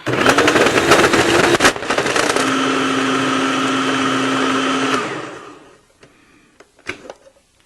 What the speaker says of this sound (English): I'm going to use the food processor